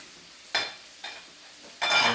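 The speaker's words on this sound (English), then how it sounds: "you already hear that sizzle because I got the pan screaming hot" Shrimp and garlic hit a screaming hot frying pan in three loud sizzling bursts, the last one sustained, with quiet pauses between.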